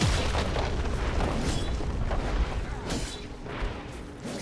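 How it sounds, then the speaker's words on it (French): A turret destroyed in League of Legends, heard as a dense, rumbling in-game explosion with booming bursts that stays loud throughout and fades slightly near the end. "Tourelle détruite."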